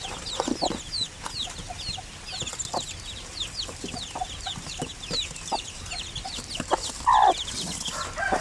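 Hens cluck repeatedly in short, close bursts, with one louder clucking call standing out near the end amid steady farmyard background.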